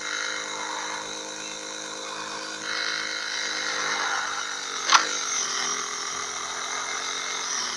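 Honda Bross 125 motorcycle riding through city streets, a steady droning engine hum with wind noise, holding a constant pitch with a slight rise midway and one brief sharp click.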